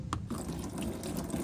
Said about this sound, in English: Now we got a lot of coolant coming out